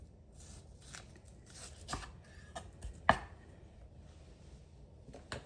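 A knife slicing a red onion into half moons on a board, giving several soft crisp cuts spread irregularly over a few seconds and one sharper cut in the middle, all quiet and close.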